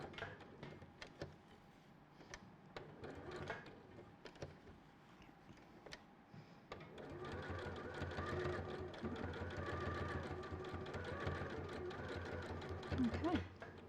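A sewing machine running steady bursts of raw edge applique stitching in a matching colour, finishing a stem on a quilt piece, moderately loud and continuous in the second half after quieter handling clicks.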